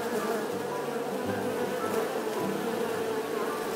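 A buzzing bee sound effect accompanying a toy sunflower and bee scene, a steady close drone with a constant pitch and no pauses throughout.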